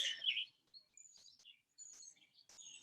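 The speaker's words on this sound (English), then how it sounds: "Birds I hear at your place." Several bright bird chirps and tweets scattered through a quiet background, fairly faint, with short trilling calls coming at irregular intervals.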